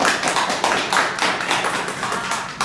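Audience applauding company board members at a Stemlife corporate meeting in Thailand: dense, steady clapping from many hands throughout, close and fairly loud, no voices over it.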